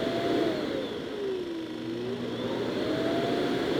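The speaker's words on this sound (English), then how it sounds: "it's going to head back to the base station to empty all the dirt from in its container into the long-term storage" A MOVA Z60 Ultra base station sucks dirt out of a robot vacuum's bin with a loud, steady whooshing roar and a whine that dips and rises in pitch, close and without talk.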